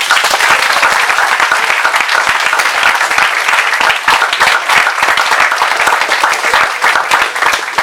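A crowd gives sustained, dense applause at the final of a student eloquence contest, Stan'Nice 2019. The clapping is loud and close, with a thick, even texture that keeps going for several seconds.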